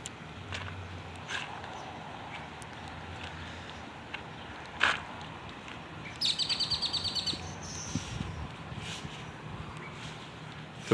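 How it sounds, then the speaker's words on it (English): Birds chirp faintly outdoors, with a short bright trill and scattered tweets over a quiet background hum. "The birds are singing,"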